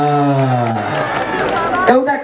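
Audience clapping breaks out at a live comedy show during a festival in Myagdi, Nepal, swelling after a voice and continuing as a dense, steady patter of many hands mixed with crowd noise and talk.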